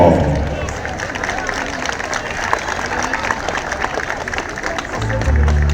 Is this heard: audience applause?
yes